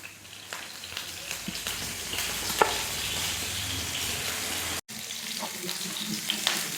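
Green chilli and chopped ginger fry in a pan for Kerala-style egg chilli, a continuous close sizzle with light crackles, scattered ticks and a brief cut partway through.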